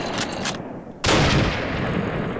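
A WW2 mod weapon in Minecraft fires loud gunshots: two lighter reports early on, then a heavy blast that rings out in a sustained, noisy echo, with no one talking.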